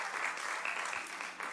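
Soft, distant congregation applause at a Spanish-language church service, a short steady patter of clapping heard faintly.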